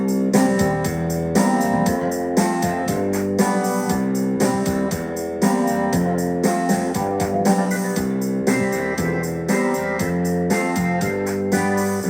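A quantized sequence plays back on a Yamaha Genos 2 arranger keyboard, with steady full-band music, a driving beat and layered instrument parts running continuously at high level with no talk.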